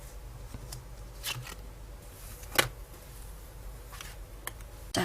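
Tarot cards being shuffled and drawn by hand, soft riffling and papery slides with several sharp flicks and snaps at irregular moments, close and fairly quiet, without talk.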